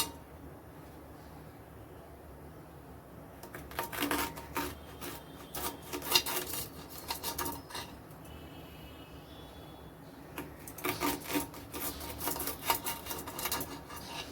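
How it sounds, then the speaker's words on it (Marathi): A knife cuts raw banana into long slices, making faint, repeated rasping strokes in uneven clusters. The cutting sits close against a quiet background. "अशा कापा करून घ्यायच्यात आपल्याला केळ्यांच्या, अशा उभ्या लांबट"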